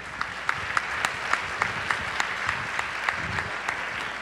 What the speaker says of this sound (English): the applause is building already